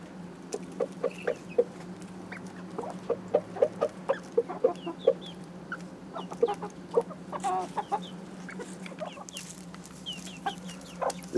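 Bantam chickens, including a bearded white silkie, cluck in short, irregular bursts inside a coop, soft and fairly close over a low steady hum.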